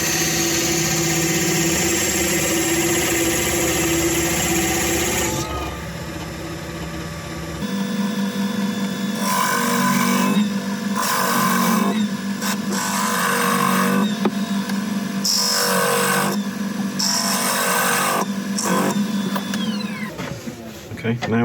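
A wood lathe spins a small Christmas tree turning with a steady hum while a parting tool cuts in, giving loud, close, rasping cutting bursts that come and go over several seconds.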